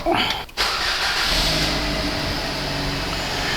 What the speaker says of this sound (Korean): 스마트 키로 시동을 한번 걸어보도록 하죠